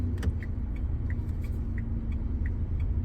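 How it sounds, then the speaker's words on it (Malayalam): A car's right turn indicator ticks at a steady, even pace, about three clicks per second, close and clear above a low engine hum inside the cabin. "റൈറ്റ് ഇൻഡിക്കേറ്റർ ഇട്ടോ"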